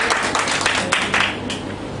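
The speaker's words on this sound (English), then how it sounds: "Give him a round of applause, please." Audience applause breaks out at a water presentation, a dense burst of clapping from a small crowd, close and fairly loud, holding steady for two seconds.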